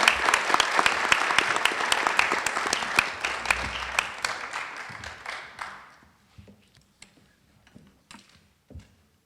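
Audience applause at a Florida congressional veterans commendation ceremony, a steady burst of many hands clapping that swells, then thins and fades out around six seconds, leaving a few scattered late claps.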